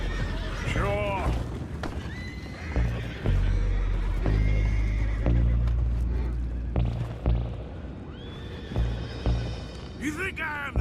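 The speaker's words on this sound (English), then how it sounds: "Horses down below." Horses in the video game Red Dead Redemption 2 whinny loudly and hooves clop amid a busy, dense scene with rumbling booms, while characters talk.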